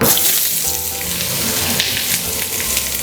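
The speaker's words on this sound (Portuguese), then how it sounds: "Nessa mesma frigideira agora, a gente só vai colocar mais um fio de azeite para preparar a cebola." Chopped onion sizzles in a drizzle of olive oil in a still-hot frying pan with the burner switched off, a steady, close, dense crackle that runs unbroken throughout.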